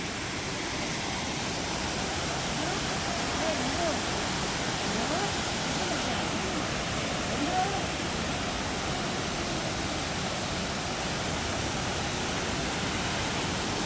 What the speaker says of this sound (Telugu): సో ఇక్కడికి వచ్చిన తర్వాత వాటర్ ఫాల్ చూడండి ఎలా ఉందో.